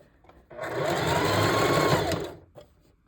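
A sewing machine stitches tracks onto a mesh dome cap, giving one continuous loud whirring run of about two seconds that starts and stops abruptly between quiet moments.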